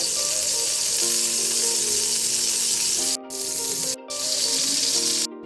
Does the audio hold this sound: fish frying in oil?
yes